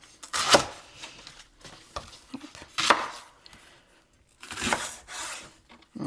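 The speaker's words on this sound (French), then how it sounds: "Donc je vais le couper en deux dans le sens de la longueur, puis après, on va simplement les émincer." Knife chopping leeks on a cutting board, a few sharp close taps spaced irregularly with brief gaps and soft slicing rustles between them, with no talking.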